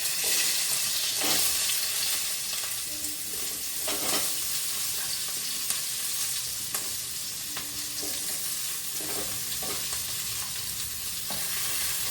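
Cumin seeds and spices sautéing in hot oil for paneer butter masala, a continuous loud sizzle with occasional soft scrapes of a stirring spoon, close and steady throughout with no voices.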